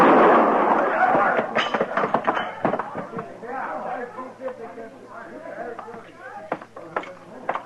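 A gunshot in an old-time Western radio drama, a sharp blast near the start followed by tense dialogue between men, with further sharp clicks and knocks under the voices.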